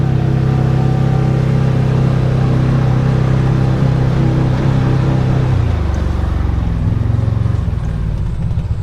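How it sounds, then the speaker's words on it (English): Massimo MSU 850 crew side-by-side engine roaring at full throttle from a low-range launch with wheels spinning, a loud steady drone that shifts pitch partway through. "in low range, just a full throttle launch"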